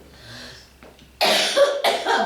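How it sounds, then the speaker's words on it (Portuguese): Two loud, harsh coughs ring out close by after a brief murmur, the second cough following shortly after the first. "Já deu tosse"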